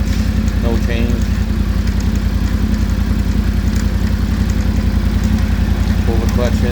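A Yamaha Tenere 700 motorcycle fitted with a Barnett clutch runs steadily, its loud, even engine drone holding throughout, with a voice talking over it.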